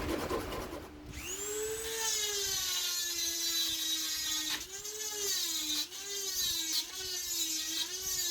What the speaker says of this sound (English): And we drill our center hole and just file away.